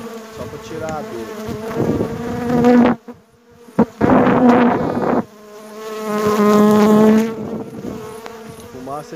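Honey bees buzz loudly right against a phone as they are brushed off it during a honey harvest, a close, continuous drone broken by a few short gaps.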